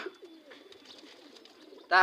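A pigeon gives soft, low cooing calls close by in a quiet space. A brief, loud voice cuts in at the very end.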